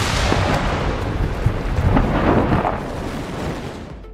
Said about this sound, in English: on-site explosive testing